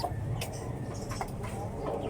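A breeder's fighting rooster clucks a few times over steady background noise, short sharp calls spaced unevenly, fairly close.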